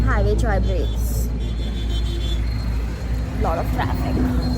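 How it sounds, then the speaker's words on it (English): Steady road rumble from a car travelling on an Indian highway on a road trip from Pune toward Nagpur and Pench, heard from inside the moving vehicle with continuous engine and tyre noise while people talk over it. "Lot of traffic."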